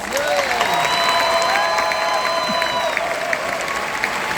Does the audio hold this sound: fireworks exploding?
no